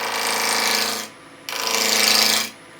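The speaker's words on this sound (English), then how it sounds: "raise the handle, and now we're cutting. Just nice and slowly." A gouge on a wood lathe cuts into spinning wood in two bright, hissing passes of about a second each, with a pause between and the lathe's steady hum underneath.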